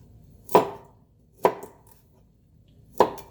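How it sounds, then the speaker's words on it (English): A knife cuts through a broccoli crown on a cutting board, splitting it into florets with three sharp, separate chops spaced about a second apart, close and clear in a quiet kitchen. "See, I like to cut from the stem here instead of the floret here."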